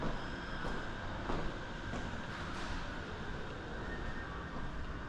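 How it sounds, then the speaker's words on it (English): Large freight elevator running inside the Massachusetts State House, a steady, loud mechanical rumble and hum that holds close and unbroken for the whole stretch. "Huge freight elevator."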